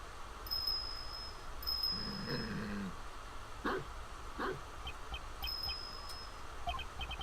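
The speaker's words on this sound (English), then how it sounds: "This dog has a bell in its collar." A small bell on a dog's collar jingles in short bright bursts inside a prison setting in Ace Attorney Investigations, with crickets chirping steadily, a few low dog yips, and faint ambience throughout.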